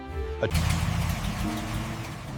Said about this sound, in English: the final test drive for the Auburn, rolling out into the light at last